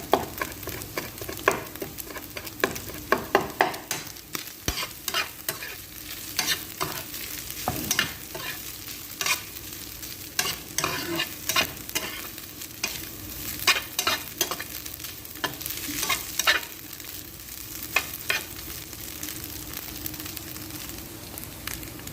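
Cabbage and chicken stirred in a frying pan, with a steady sizzle and repeated scraping clinks of the utensil against the pan throughout, close and alone without talk.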